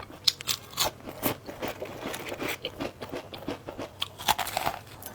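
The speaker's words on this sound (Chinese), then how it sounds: "它是这种酥酥的外皮，咬着直料渣，然后很嘎嘣嘎嘣脆的那种" Close, repeated crisp crunches and bites into a flaky, layered savoury Huangshan pastry with a thin charcoal-baked crust, crackling irregularly throughout with no talking.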